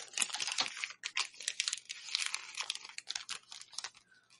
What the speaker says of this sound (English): Just the sound of a page turning or rustling.